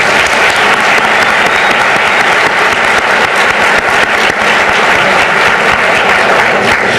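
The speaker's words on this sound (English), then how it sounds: "Let's give them another round of applause." Audience applause fills a high school academic excellence awards ceremony in 1998, a dense, steady wash of clapping from many hands, loud and continuous throughout with no talk over it.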